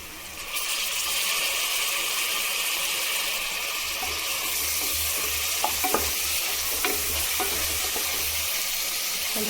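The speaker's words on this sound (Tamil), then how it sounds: "கொஞ்சம் வதக்கி விட்டுக்கலாம்." Tomatoes and onions sizzle loudly in oil in a pan while mint rice is being cooked. The dense, continuous frying hiss stays close and steady, with a few faint stirring knocks.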